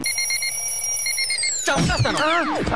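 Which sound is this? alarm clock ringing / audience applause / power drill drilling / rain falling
alarm clock ringing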